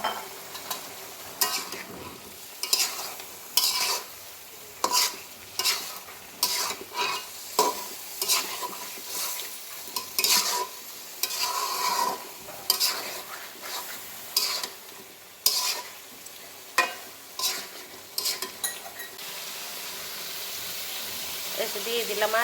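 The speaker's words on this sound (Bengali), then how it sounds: "এই যে মাংস দিয়ে দিলাম" Chicken meat sizzles in a pot with cumin and coriander powder while a utensil stirs it in repeated bursts, scraping and clattering against the metal over a continuous frying hiss.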